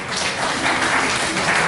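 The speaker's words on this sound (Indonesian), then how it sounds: "Tepuk tangan sekali lagi." Presentation audience clapping, a short, loud burst of dense applause that holds level for under two seconds.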